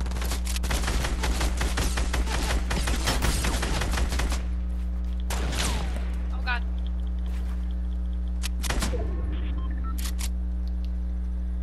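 Fast SCAR rifle bursts in a video game shooter, a dense rattling volley in the first few seconds, then scattered single shots over a steady low hum, with excited talking throughout.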